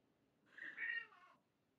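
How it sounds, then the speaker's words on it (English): A house cat meows once, a drawn-out, fairly quiet call rising and falling over about a second, heard alone in an otherwise still indoor room. "sorry if you can hear meowing"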